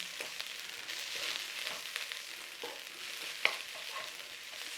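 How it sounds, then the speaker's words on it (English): Egg fried rice with green onions sizzles steadily in a hot pan, with a few scraping stirs and one sharp clink cutting through the constant frying hiss. "Take some of those green onions in there, stir them through"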